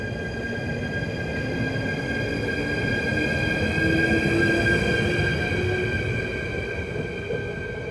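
An old passenger train rumbles steadily into Ede Centrum station with a constant low roll and faint high squealing tones from wheels and brakes, close and sustained, with no voices.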